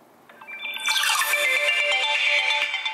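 Vivo iQOO Z1 smartphone ringtone playing alone, a bright melodic chime that builds from a few notes into a sustained, layered tone over about three seconds.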